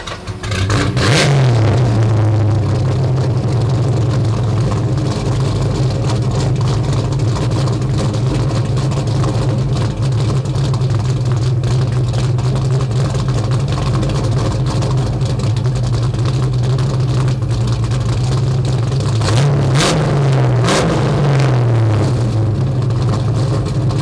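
A Foxbody Mustang with an X-pipe and Super 44 Flowmaster mufflers idles with a loud, steady burble, then the engine is revved hard near the start and again near the end. No one speaks.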